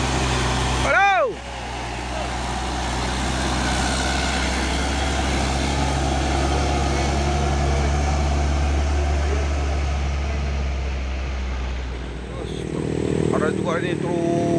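Mitsubishi Fuso truck passing on a road amid other trucks and a bus, a steady loud engine rumble with traffic noise throughout and a brief horn near the start.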